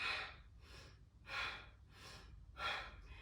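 Deep yoga breaths drawn in and pushed out, three slow airy cycles heard close up and fairly quiet, with even rhythm and no talking.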